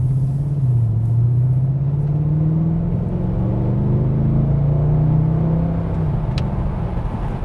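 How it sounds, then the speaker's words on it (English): The V8 engine of a 2010 Mercedes-Benz E63 AMG rumbles deep and steady under leisurely acceleration, its pitch rising and falling as the loud, close engine note pulls smoothly with no talk. "just listen to the rumble"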